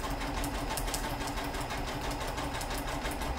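A sewing machine stitches continuously with a beading foot, sewing pearls onto fabric; a steady, close, even mechanical whir runs throughout with no voices.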